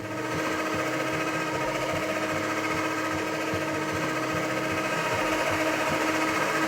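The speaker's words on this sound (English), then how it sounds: "he's going to put just a little bit of milk in at a time while Matt uses the mixer" An electric hand mixer runs continuously while milk is added a little at a time for a kids' kitchen project: a steady, loud motorized whir with rhythmic beater rattle, close up and alone.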